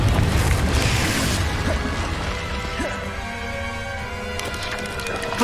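Confringo fire spell explosion in Hogwarts Legacy, a loud booming blast with a crashing burst up front, then a rumbling decay under busy game effects and a sharp hit near the end.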